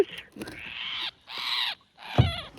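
A baby heron gives three hoarse, drawn-out calls separated by short pauses, close and clear against quiet surroundings.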